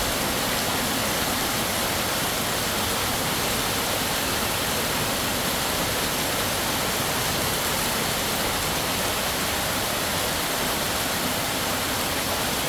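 Downpour at Tha Muang in Kanchanaburi with floodwater running off, a loud, unbroken wash of rushing noise close by that stays constant throughout, no speech over it.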